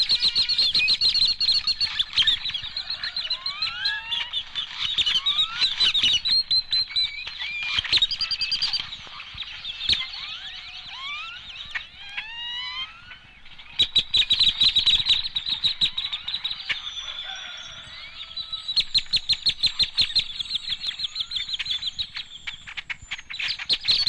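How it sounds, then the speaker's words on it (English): A chorus of great-tailed grackles in eastern Mexico, a noisy flock giving harsh squeaky whistles, rising slurred calls and clacking notes, overlapping continuously and loud at close range, with brief quieter gaps. "a chorus of great-tailed grackles is a familiar sound."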